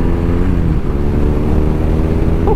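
A motorcycle being ridden, its engine droning steadily and loudly at close range with a constant low rumble and no talk.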